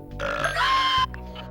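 A bird's burp, a short guttural grunting belch standing out loud and close for about a second, then fading into a softer tail.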